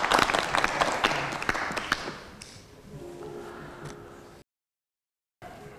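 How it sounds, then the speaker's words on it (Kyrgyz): Studio audience clapping at a Kyrgyz television show, a dense burst of applause that gradually thins and fades over a few seconds before the sound cuts to silence. "Кол чаап коелу анда."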